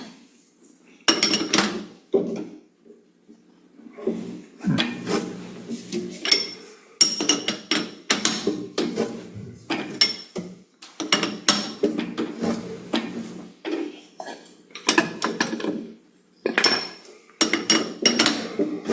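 A key tightens a homemade router jig, giving repeated metallic clinks and scrapes in irregular bursts with short pauses between them, close and moderately loud.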